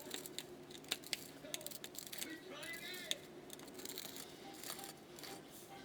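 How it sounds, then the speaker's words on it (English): Salt pours from a package into a cup measure in a home kitchen while baking, a light, crisp granular patter and tinkling rattle of grains hitting the cup, close and fairly quiet, with faint background rustling. "If you hear that, that's like some of the salt is falling."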